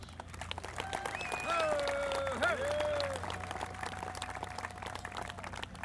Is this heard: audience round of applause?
yes